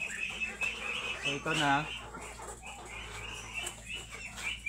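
Hens cluck and a rooster gives a short crow close by in a farmyard of laying hens, with scattered clucking throughout and someone speaking briefly over it.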